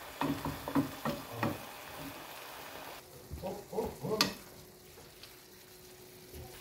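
Salsiccia sausage sautés in oil in a pan for pasta with broccoli, a soft steady sizzle broken by several scraping stirs of a utensil, close and fairly quiet.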